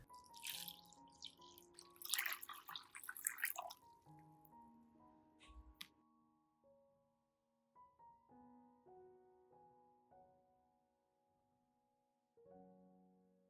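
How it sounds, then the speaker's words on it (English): Garlic and vitamin B1 solution poured into a clean basin gives a burst of splashing liquid over the first few seconds, then scattered drips and small splashes over soft background music. "Pour the garlic and B1 solution into a clean basin."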